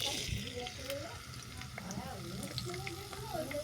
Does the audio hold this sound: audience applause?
no